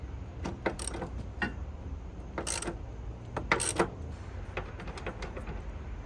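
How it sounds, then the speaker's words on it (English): Wrench clicks and metallic clinks while a 17mm bolt is loosened and removed from the engine-side motor mount of a Honda CR-V 1.5T (L15B7), with several sharp ratcheting bursts at close range. "I'm gonna go ahead and remove this 17mm bolt."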